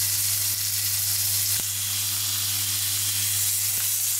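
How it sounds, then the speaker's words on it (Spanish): A stuffed pork loin sears in hot oil in a frying pan, giving a loud, steady sizzle that runs throughout, broken by a couple of brief taps. "Ya lo tengo caliente y ahora lo que vamos a hacer es sellar la carne"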